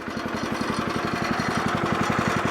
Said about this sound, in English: get the sawmill started up and warmed up